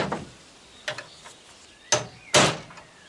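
Three heavy metallic hammer strikes on a stuck car door handle of a Citroën Traction 11B at irregular intervals, the last two loudest and closest, with faint knocks between them in a quiet room.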